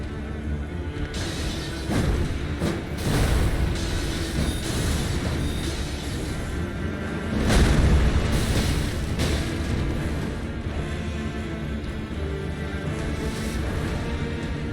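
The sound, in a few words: explosions in the video game Elden Ring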